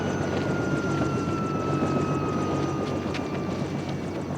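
A helicopter drones steadily overhead, its engine whine and rotor noise loud and continuous with a sustained tonal hum, and no voices heard.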